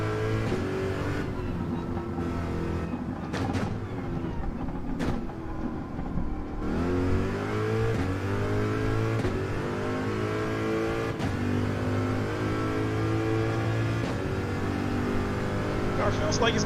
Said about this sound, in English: Car feels like it's got some decent acceleration.